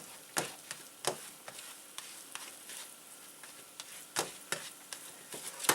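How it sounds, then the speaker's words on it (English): Eggs with ground chipotle peppers being stirred in a pan, quiet soft scraping strokes of a spoon at an irregular rhythm over a faint sizzle, with several sharper clicks of utensil against the pan. "Stir this around really good like that"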